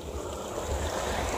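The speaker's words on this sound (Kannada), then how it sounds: "ಬರ್ತಾ ಇದೆ ನೀರು ನೋಡಿ." Water flows steadily to fill a pond near Madanageri in Uttara Kannada, making a continuous rushing wash that holds at an even level throughout.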